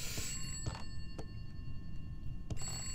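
A telephone rings faintly in a horror video game, a few quiet, spaced electronic rings over a low background hum.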